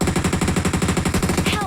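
Rapid automatic gunfire rattles in a squad battle shooter video game, a loud, evenly spaced burst of about fifteen shots close up, with no talk.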